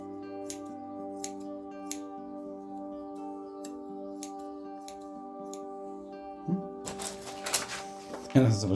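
Freshly sharpened scissors snipping in a steady series of crisp metallic clicks, then rougher handling noise near the end, close and fairly quiet.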